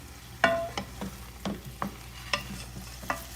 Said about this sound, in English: Once the onions start kind of sizzling